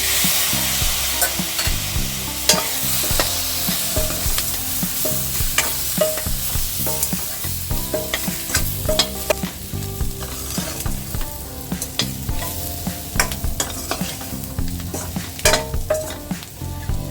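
Tomato with turmeric and chilli powder stir-fries in a hot pan for a gravy, a dense, loud sizzle broken by frequent scraping and clattering stirs throughout, with no voices.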